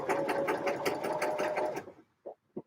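A sewing machine runs in a steady, fast rhythmic whir while stitching a Vogue 8947 dress, then stops and gives two short bursts of stitching, close and clear.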